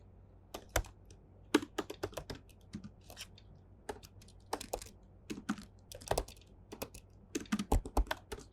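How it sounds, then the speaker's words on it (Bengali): An address goes in on a computer keyboard as close, crisp keystrokes arrive in quick irregular bursts separated by short pauses, over a quiet background. "সো আমি এখন আমার অ্যাড্রেসটা দিয়ে দিচ্ছি।"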